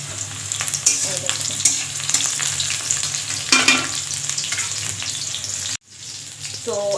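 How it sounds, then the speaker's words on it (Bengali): Okra (bhindi) frying in a pan, with a steady broadband sizzle and occasional stirring scrapes that cut out briefly near the end before resuming, close and fairly loud with no talk. "এই দেখুন ভেন্ডিগুলো ভাজা হয়ে গেছে।"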